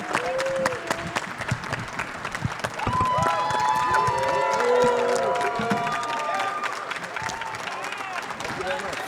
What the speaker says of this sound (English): Guys, huge round of applause for